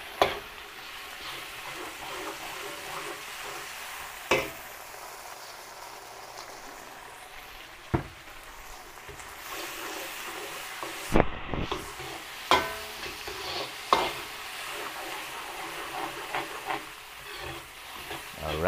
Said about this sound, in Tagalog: gisahin po natin yung tomato sauce